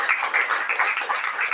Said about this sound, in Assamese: আমি জুকে তালি বজাই ঈশ্বৰ ধন্যবাদ করি